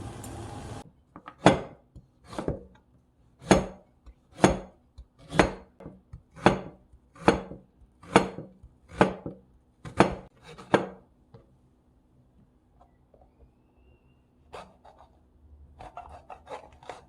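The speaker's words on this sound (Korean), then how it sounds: "이렇게 채를 썰어주세요." A kitchen knife slices ingredients into thin julienne strips on a cutting board while preparing Korean royal-court gujeolpan, about a dozen crisp, evenly paced chops ringing out close and clear with no talking, then a few quieter taps and rustles.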